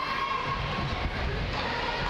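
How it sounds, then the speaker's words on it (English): A crowd cheers at a hockey game, the Bedford Blues versus Acadia gold medal match, making a dense, sustained roar that stays loud and even throughout. "crowd giving quite the cheer here to the left side"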